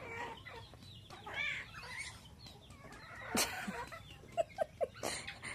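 Chickens cluck intermittently nearby, with a few sharp rhythmic clucks near the end over a quiet farmyard background.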